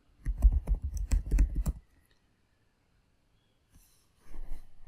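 Quick bursts of computer keyboard typing, with a final key press like hitting enter, clicking close and clear in a quiet room, then a pause and a brief return of soft keystrokes.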